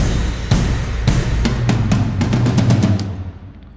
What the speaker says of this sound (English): So that is the sound of the drums